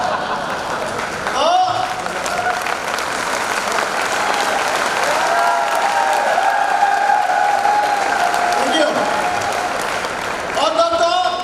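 An audience applauding during a speech, producing a dense, sustained wash of clapping from a crowd that holds steady for several seconds, with a speaker's voice heard over it at the start and end.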